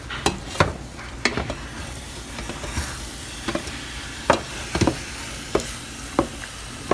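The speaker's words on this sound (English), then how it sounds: "So now I'm gonna add my diced tomato. I'm gonna stir it." Diced tomato is stirred into a simmering ground turkey stew. A steady sizzle runs underneath as a spoon scrapes and knocks against the pot again and again, at an uneven rhythm.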